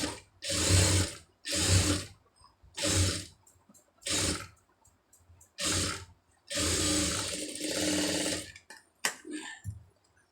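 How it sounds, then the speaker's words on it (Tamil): Domestic sewing machine running in several separate bursts of steady whirring as a folded lining seam is stitched on a blouse, with short pauses between runs and no talking. "இது அப்படியே மடித்து ஒரு படிமான தையல் போட்டுருங்க"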